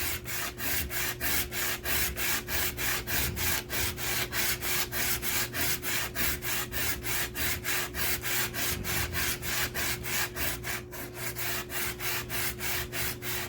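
An Optimus water block is lapped on sandpaper with steady back-and-forth rubbing strokes, a fast, even rhythm of scraping swishes, close and continuous.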